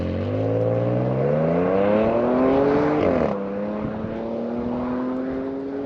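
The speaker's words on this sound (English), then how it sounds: "You have a burbly exhaust out back" Supercharged V6 in an Audi S4 revving up with a rising burbly exhaust note, easing off sharply near three seconds, then settling into a steady, close, moderately loud drone.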